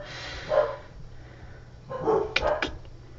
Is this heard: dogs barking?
yes